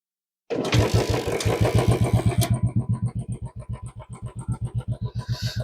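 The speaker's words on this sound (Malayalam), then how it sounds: "അപ്പോൾ രണ്ടും ഒറ്റ കിക്കിൽ സ്റ്റാർട്ട് ആയിട്ടുണ്ട്." A motorcycle engine kick-starts on the first kick with no throttle and then idles in a steady, loud, close thumping rhythm, with no talk.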